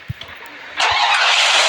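A car engine starts up in the Free Fire video game, a sudden loud broadband roar that kicks in partway through and holds steady after a few soft thumps.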